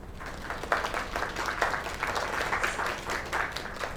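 A small group claps enthusiastically, the applause close and lively with uneven bursts throughout.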